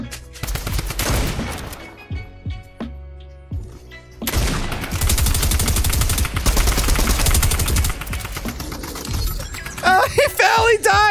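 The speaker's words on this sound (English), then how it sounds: "Keep shooting." Rapid bursts of video game gunfire, including sustained machine-gun-like volleys and explosions, loud and close, with players' voices talking and shouting over parts of it.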